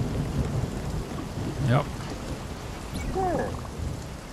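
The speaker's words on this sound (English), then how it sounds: "The storm, yeah." A thunderstorm with rain in the video game Spiritfarer, a steady wash of rainfall with low rumbling thunder beneath, while a person speaks briefly over it.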